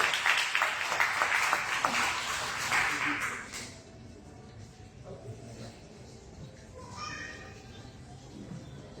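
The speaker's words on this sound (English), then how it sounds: "A big round of applause." An audience at a certificate of appreciation ceremony claps in a dense burst of applause for about four seconds, then it dies away into room murmur and scattered small sounds.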